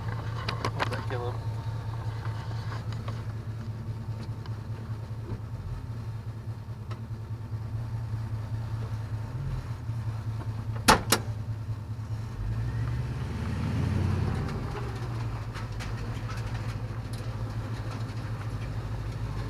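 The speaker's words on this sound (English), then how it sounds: "Car's running. We're gonna take it for a little spin." An LS-swapped Chevy Nova runs with a steady low engine drone, briefly revving louder as it pulls away under its own power, with a couple of sharp knocks midway.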